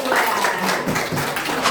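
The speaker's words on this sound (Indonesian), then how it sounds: "Tepuk tangan untuk kelompok 2." A school class claps for a presenting student group, a brief, fairly close burst of applause in a classroom.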